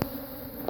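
Honeybees at an open hive preparing to swarm, a steady close droning buzz holding through the short moment with one brief louder swell near the end.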